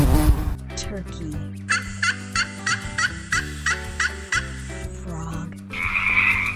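Turkey gobbling in a kids' animal-sound lesson: a fast series of about ten short, evenly spaced gobbles over a steady musical backing, with a brief closing burst at the end.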